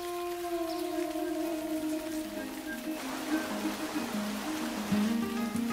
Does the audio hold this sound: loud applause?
no